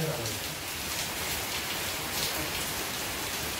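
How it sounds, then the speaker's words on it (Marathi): Steady rain falls outside a house in Ratnagiri, Konkan, a dense even patter close by that runs unbroken throughout. "बाहेर पाऊस देखील पडतोय"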